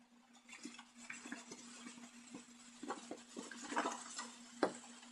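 Container holding a citric acid and baking soda mixture being shaken, giving soft irregular rattles and granular swishes with a couple of sharper knocks near the end, quiet over a steady low hum.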